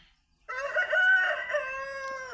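Dega breed roosters at a poultry farm crowing, one long drawn-out crow rising from silence and holding steady near the microphone, loud and clear with no talk over it.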